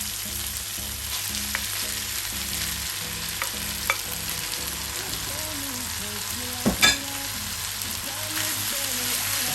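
Callaloo and saltfish fry in a pan with a steady crackling sizzle while being stirred, with a few sharper scraping clicks of the utensil partway through, and no talking.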